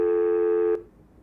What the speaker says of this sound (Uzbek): Qo'ng'iroqni amalga oshiryapman.